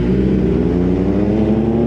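A Kawasaki ZX10R 1000cc sport bike engine revs loud and close, a sustained deep roar holding steady for the whole short stretch with no speech.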